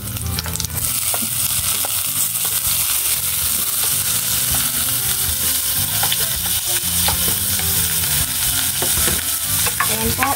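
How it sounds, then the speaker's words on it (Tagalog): Chopped onion dropped into a hot pan for a simple Filipino home-cooked dish, sizzling loudly and steadily while a utensil stirs and scrapes through it, with no voices. "At saka ilagay na po natin itong sibuyas."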